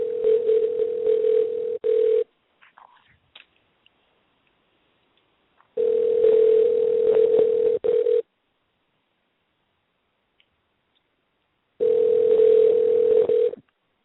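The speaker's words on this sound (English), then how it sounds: "We're going to give it a call." Ringback tone on a telephone line, three long steady tone bursts separated by roughly four-second silences, clear and close with no talk over them.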